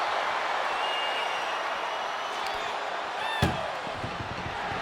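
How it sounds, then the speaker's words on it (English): An ambulance door slammed shut in the WWE 2K24 wrestling video game, one sharp, heavy bang standing out over a steady roar of arena crowd noise, with a lighter knock just after. "Pushing with every fiber of their being to slam the door."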